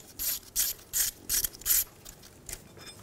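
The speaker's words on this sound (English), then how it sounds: "Using a 5 millimeter hex head, remove the bolt for the ABS sensor." A ratchet with a 5 mm hex bit loosens an ABS sensor bolt on a 2007-2017 Ford Expedition front wheel, giving five quick, close clicking bursts in a steady rhythm and then one fainter click, with no talk.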